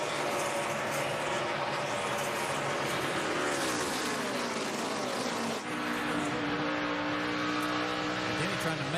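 NASCAR stock cars at the 2011 Good Sam RV Insurance 500 roar steadily around the racetrack, a continuous engine drone whose pitch sweeps as cars pass, with commentary talking over it.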